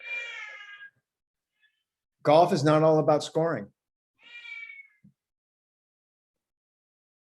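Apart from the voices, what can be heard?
cat meowing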